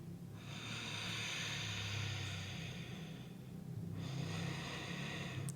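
Slow, deep breaths during a morning full-body yoga stretch, a long airy inhale and exhale heard close and steady over a low background hum, with a second breath starting toward the end.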